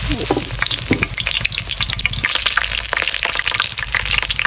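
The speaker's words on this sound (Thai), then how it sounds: "ผมทอดกันเลย" Battered mulberry leaves deep-frying in hot oil, a dense, steady, close sizzle and crackle that runs unbroken throughout, no voices.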